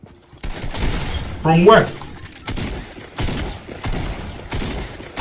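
Gunfire sprays at the player in a Fortnite match, arriving in several sharp bursts spaced about a second apart, with a shattering impact near the start and a voice speaking over the shooting.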